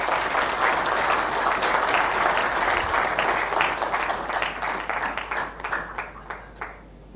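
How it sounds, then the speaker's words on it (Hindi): Loud, sustained applause from an audience at a speech event, thick continuous clapping that holds steady and then gradually thins and fades out toward the end. "ऐसे इंसान के लिए बहुत जोरदार तालियां कीजिए।"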